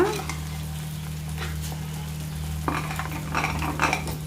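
Jaggery syrup bubbles in a pan on the stove while a spoon scrapes and stirs it, a soft steady sizzle with occasional clinks, close and fairly loud.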